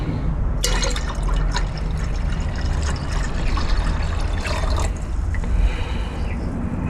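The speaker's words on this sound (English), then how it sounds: "So I'll pour the SMB in now." SMB solution poured into a gold recovery liquid, a steady close liquid trickle and splash running under a constant low background rumble, with brief brighter splashy bursts early and again near the end.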